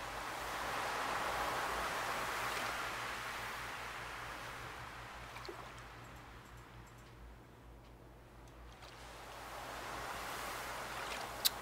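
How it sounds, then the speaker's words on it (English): Ocean waves wash in and out along the shore in the farming video game Stardew Valley, a soft steady surf that swells, fades low in the middle and rises again, with a faint low hum underneath. "Those ocean sounds, though."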